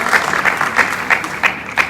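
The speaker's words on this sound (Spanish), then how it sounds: "Denle un fuerte aplauso" A church congregation at a Spanish-language Sunday service claps together in a strong, regular rhythm, loud and full, with short bursts repeating about three times a second.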